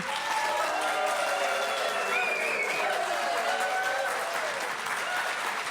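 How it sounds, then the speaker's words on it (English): A crowd at the Wigtown Book Festival applauds continuously, dense clapping close and loud, with some voices faintly mixed in. "Listen to that crowd we have today."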